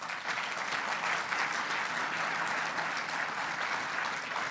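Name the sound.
audience applause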